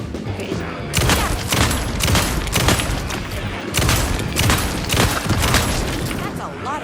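Dense video game gunfire, rapid overlapping bursts and booming shots that are loud and continuous for most of the stretch after a brief quieter start.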